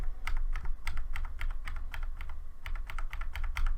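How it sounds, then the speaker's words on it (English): Page Down key on a computer keyboard pressed repeatedly while editing a video, about fifteen presses: a steady run of close, distinct key clicks over a constant low hum, with no talking. "I clicked page down 15 times"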